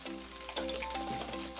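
Vegetable fried rice being stirred in a frying pan, a soft continuous sizzle with faint scraping of the spatula, quiet and close, with no talk.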